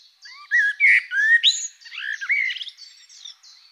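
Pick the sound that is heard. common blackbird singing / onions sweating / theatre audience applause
common blackbird singing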